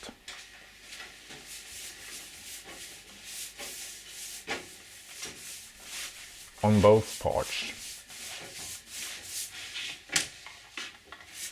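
A brush strokes polyurethane varnish onto a kayak in soft, repeated swishing rubs, close and fairly quiet, with a brief louder knock partway through and a short spoken phrase.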